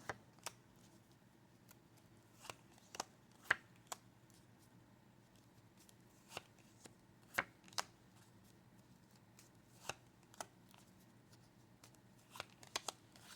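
Cartomancy cards for a tarot reading are shuffled and handled in a quiet room, producing scattered soft snaps and flicks at irregular intervals over a faint background hum.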